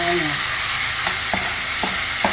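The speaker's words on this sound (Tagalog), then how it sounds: "Gisahin na po natin na rin ating burong nabili." Fermented buro sautéing with garlic and onion in a hot pan, a steady loud sizzle filling the clip with a few sharp stirring scrapes, no voices.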